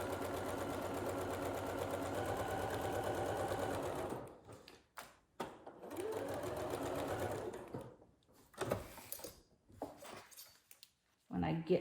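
A sewing machine runs steadily for about four seconds while back-stitching over the overlap of an envelope pillow. Shorter stop-start bursts of stitching follow, with quiet pauses and a little handling noise between them.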